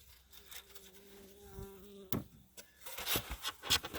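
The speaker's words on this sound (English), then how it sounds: "there's some bees coming out here to say hello" Honey bees buzz faintly around a beehive being winterized outdoors. There are a few brief, close wingbeat hums and some clatter and handling noises, with no talk.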